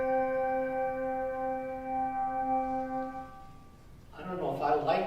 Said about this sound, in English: Well, I can ring a bell.